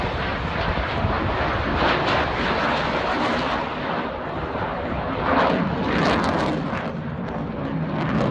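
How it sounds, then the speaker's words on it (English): A fighter jet makes a slow flyby, its engine a loud continuous roar that swells and fades slightly as it passes overhead, with no talk. "This fighter jet doing a slow flyby."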